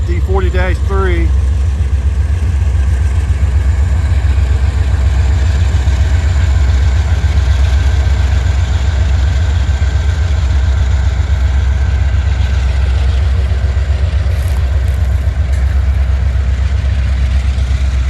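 An SD40-3 diesel locomotive idles with a deep, steady rumble and constant low throb, loud and close throughout.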